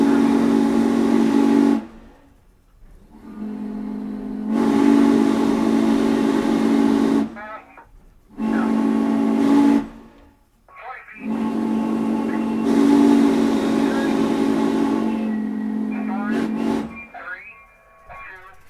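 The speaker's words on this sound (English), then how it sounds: "There's the whistle blow." A loud whistle from steam locomotive N&W 611 at the Strasburg Rail Road blows in several long blasts with short gaps between, hissing steam audible around them.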